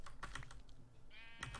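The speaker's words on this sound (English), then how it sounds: "Okay, there's a sheep." A sheep in the Minecraft video game lets out a brief wavering bleat amid quick clicky keyboard typing, fairly quiet and close, with no talking.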